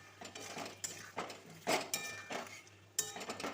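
A spice mix is stirred into pumpkin in a pot with a metal spoon, quiet clinks and scrapes against the pot coming in irregular bursts, close and soft.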